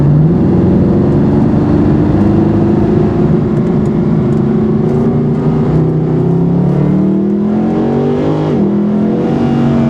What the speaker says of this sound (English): And I already adore the sound of the car.